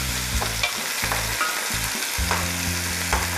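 Sheep fat melts and sizzles in a pan with a steady, close frying hiss, broken by short low scraping strokes of stirring; no one speaks.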